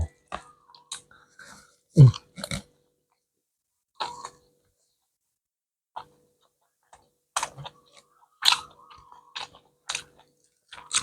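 Someone eats a Thai fried omelette served as a one-plate meal, with close, crisp bursts of chewing and crunching separated by silent pauses.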